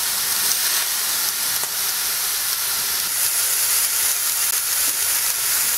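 Beef steak searing in a very hot cast iron pan, a steady loud sizzle and hiss throughout with no talking.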